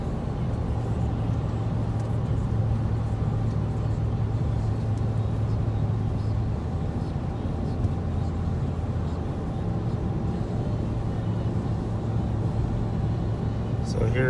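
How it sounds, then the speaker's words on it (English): A 2014 Ford Expedition EL towing on cruise control over rolling hills, with a constant engine and road drone inside the cab under intermittent talking. "So here's how the truck does in rolling hills."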